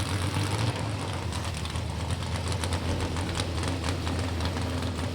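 V6 dragster engine running at a racetrack, a steady loud mechanical roar with no pauses throughout.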